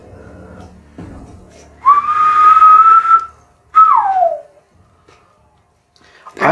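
Enemy signal whistles from the video game The Last of Us Part II: a long sustained whistle followed by a shorter falling one, loud and clear after a stretch of quiet low background.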